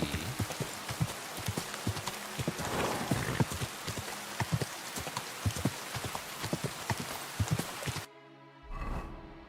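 Horse hooves clip-clop in a steady rhythm across rough ground for several seconds in the video game Kingdom Come: Deliverance II, then stop abruptly, leaving a brief muffled sound.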